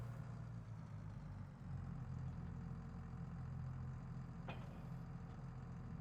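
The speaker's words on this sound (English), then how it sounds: "This tractor is an absolute beast." A big tractor's engine idles in Farming Simulator 22, a steady low rumbling drone for several seconds with one brief click partway through.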